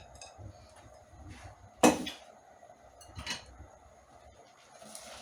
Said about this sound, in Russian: Немножечко перемешиваю